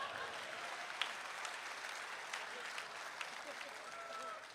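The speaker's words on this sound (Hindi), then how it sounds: "ताली तो जोर से बजा दो" Sustained audience applause fills the hall at an evening of Hindi poetry recitation, a dense, steady patter of many hands clapping from start to finish, with a few sharper claps standing out and no voices over it.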